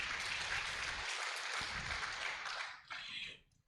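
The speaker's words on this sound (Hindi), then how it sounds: "एक बार आप सभी अपने लिए जोरदार तालियां बजाएं।" Clapping from an audience at a drama performance held by a jurist wing, sustained and fairly even, then dropping off and fading out near the end, with no talk.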